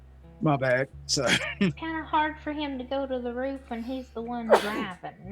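A single short sneeze bursts out amid lively conversation between several people during a video game session, close to the microphone and partly covered by the talking.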